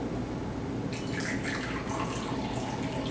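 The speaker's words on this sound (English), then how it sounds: "So we're going to pour the hot water into the teacups," Hot water is poured into Japanese teacups (chawan) while preparing Honyama Sencha green tea: a steady splashing trickle over a low background rumble, with brighter pouring texture rising after the first second.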